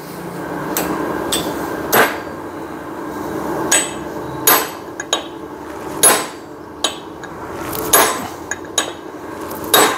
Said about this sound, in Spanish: Ahí ya se sintió el golpe de maceta fuerte